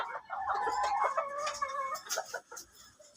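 Modern game bantam chickens cluck and call nearby in a run of short, tonal, wavering notes with brief pauses between them, and no talk over them.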